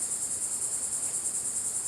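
Crickets chirping outdoors in nature as a steady, high, pulsing trill that never stops, with no other sounds.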